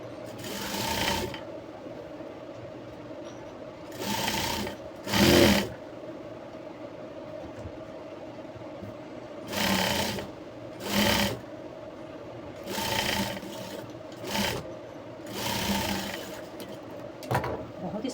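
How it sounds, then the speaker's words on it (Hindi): A sewing machine runs double lines of stitching along a jumpsuit seam in repeated short bursts with pauses between them, close and fairly loud, with a steady hum underneath. "अब इसमें हम डबल सिलाई करेंगे"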